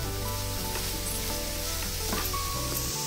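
A coconut and sugar mixture is stirred in a pan over medium gas, a steady loud sizzle with soft scraping strokes and no voices.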